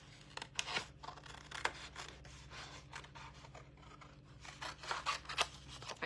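Scissors cutting carefully around paper card pieces for a layered Christmas card at a crafting desk, heard as steady, close snipping and rustling with a faint hum underneath and no talking.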